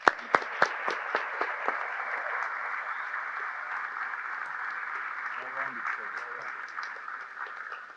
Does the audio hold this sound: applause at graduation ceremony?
yes